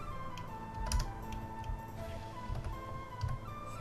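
Computer keyboard keys tapped in short irregular clusters during character creation for a D&D 5e tiefling ranger, light clicks at close range over a faint steady hum, no talking.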